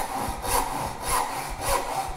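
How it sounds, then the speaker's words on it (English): A hand rip saw crosscutting timber for a dovetail housing joint, four rhythmic rasping strokes close by, each push swelling in loudness, with no voices. "you can actually use a rip saw to crosscut timber"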